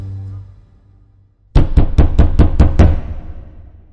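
A door is knocked on with seven sharp, evenly spaced raps, loud and close, after a quiet stretch of low hum.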